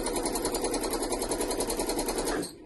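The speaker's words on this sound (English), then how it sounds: "I'm just sewing a leaf shape there, and you can go in any direction" A sewing machine free-motion stitches a leaf shape into Lutradur fabric, a steady rapid mechanical whirr with a fast needle rhythm that runs continuously and then stops abruptly.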